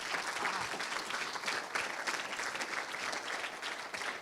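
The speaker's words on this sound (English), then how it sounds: "A round of applause for you" Audience at an annual technology-transfer conference in Copenhagen applauds the outgoing board, a steady wash of many hands clapping at moderate distance for the full four seconds, without voices over it.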